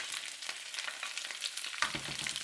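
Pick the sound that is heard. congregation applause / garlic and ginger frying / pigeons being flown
garlic and ginger frying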